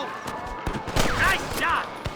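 Gunshots crack in a Red Dead Redemption shootout, a few sharp bursts amid a voice and game effects, moderately loud and close.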